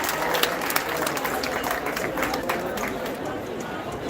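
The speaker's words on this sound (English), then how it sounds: "another round of applause for the class of" Graduation ceremony audience applauding, a dense, continuous wash of clapping from a large crowd mixed with cheering and chatter, sustained at a fairly loud level.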